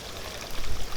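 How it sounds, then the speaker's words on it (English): Fresh water runs steadily at the Temizuya purification fountain of a temple in Asakusa, a soft continuous splashing flow with a slight swell toward the end, with no voices. "you rinse your hands and mouth with fresh water at Temizuya"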